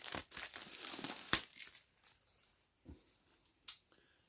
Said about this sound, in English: This is that kind of thick cellophane, but it's coming off nicely now.